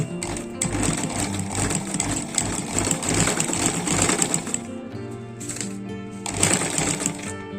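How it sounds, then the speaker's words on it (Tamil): A sewing machine stitches a border along the edge of a jute table mat, its rapid needle chatter running steadily and close up, with a short pause before it starts again. "பார்டரோட எண்டிங்லேயே ஸ்டிச் பண்ணணும்."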